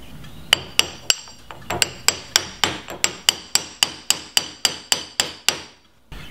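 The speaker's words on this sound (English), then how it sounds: "So I'll tap that, get it in place," A hammer taps a jam nut into place on a steering input shaft, about twenty sharp metallic strikes in a steady rhythm, close and crisp, ending in silence.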